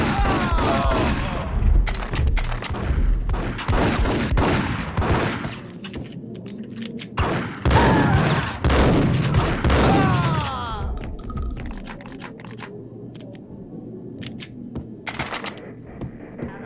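Gunfire in the 2001 shooter Max Payne: repeated loud bursts of rapid shots and heavy booms in clusters, separated by quieter gaps, with sharp echoing cracks near the end.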